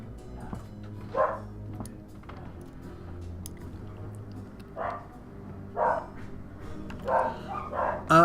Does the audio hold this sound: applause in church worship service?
no